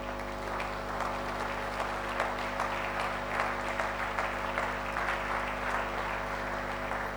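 A church congregation at a sermon applauds steadily, a dense and sustained patter of many hands clapping over a constant low hum.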